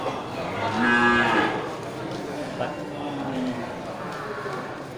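Feeder cattle at a livestock sale moo, one drawn-out low call near the start and a softer one later, over a murmur of background voices.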